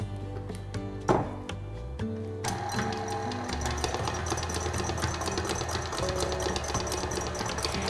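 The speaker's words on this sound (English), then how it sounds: "I'm going to give that a nice mix" An electric mixer stirs oil into vanilla cupcake batter, a close mechanical whirring and rattling that starts after a couple of seconds of clinking and then runs steadily to the end.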